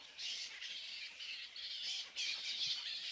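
Faint, repeated harsh bird squawks in quick succession, coming in rough bursts throughout.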